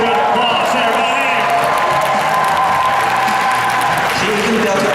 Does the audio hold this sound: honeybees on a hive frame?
no